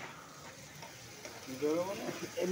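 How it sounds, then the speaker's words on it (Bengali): A paste of ground garlic and onion frying in a pan for a fish roe curry, sizzling and spattering steadily and getting louder toward the end, with some stirring. "আমি একটু মশলাটাকে এবার একটু কষিয়ে নিচ্ছি।"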